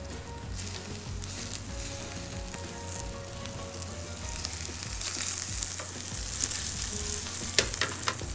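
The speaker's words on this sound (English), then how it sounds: "So we're gonna add our shrimp now" Small fresh Key West pink shrimp fry in a pan with garlic, a continuous close crackling sizzle with scattered sharp pops growing denser toward the end, no voices.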